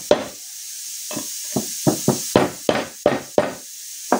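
A small socket tapped with a hammer drives the gear selector oil seal into a 1991 Honda CR250R engine during reassembly. About nine sharp, close knocks come at an uneven rhythm that quickens toward the end, with no talking.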